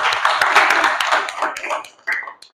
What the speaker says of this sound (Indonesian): Sekali lagi tepuk tangan untuk kelompok yang sudah maju.